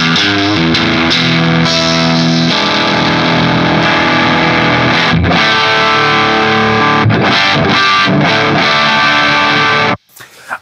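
Electric guitar played through a G-Lab Rebel Series fuzz pedal, giving a thick, saturated, sustained distorted tone with chords and note changes, loud and continuous before cutting off abruptly near the end with a few quieter plucks.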